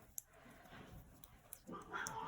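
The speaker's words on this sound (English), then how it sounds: "now you have to hear my cats growling at each other" Two house cats growl at each other indoors: a low, rumbling, uneven sound that swells near the end, with small clicks and rustles and no talking.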